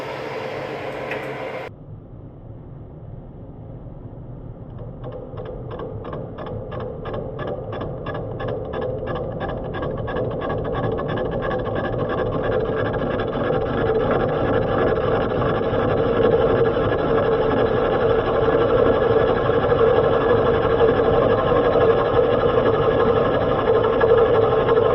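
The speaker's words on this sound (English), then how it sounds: "he's gonna cut a little slot in both the pieces for the bottom of the English wheel to go on" A machine cuts a slot into welded flat bar pieces for the base of an English wheel, a steady loud mechanical whir and grind with a rapid rhythmic chatter, continuous and close, after a brief different noise at the start.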